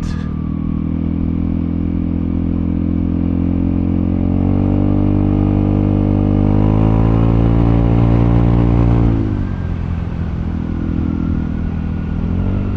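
A Vespa GTS300 scooter engine drones steadily while riding, its pitch climbing as it accelerates, then dropping back as the rider eases off; heard close and continuous.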